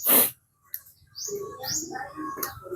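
Birds and chickens call outdoors, with a sharp chirp, then soft cooing and twittering notes mixed into a quiet background.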